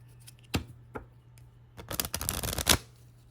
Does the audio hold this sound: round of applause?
no